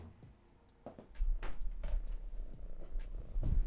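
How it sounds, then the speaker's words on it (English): A fluffy cat purring close by, a low continuous rumble that starts faint and swells louder, with a few soft bumps mixed in. "Oh my goodness, already purring."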